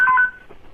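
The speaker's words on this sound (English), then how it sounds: "That's a special ring they have." Special telephone ringtone, a brief bright electronic tone burst that stops abruptly and is followed by low room noise.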